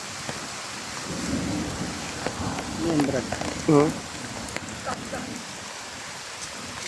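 A heavy downpour roars steadily while thunder rumbles low beneath it. Two people exchange a few brief words over the rain.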